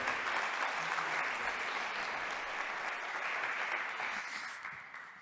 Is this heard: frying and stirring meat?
no